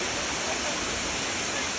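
Khun Korn Waterfall in Thailand, a constant broadband roar of rushing, falling water, close and loud, unbroken and even throughout, with no voices over it.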